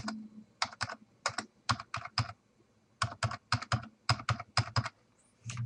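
A credit card number is typed on a computer keyboard in crisp, close bursts of keystrokes with a short pause in the middle.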